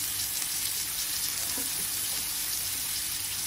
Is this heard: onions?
yes